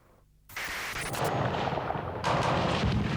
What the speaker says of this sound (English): The day began with gunfire.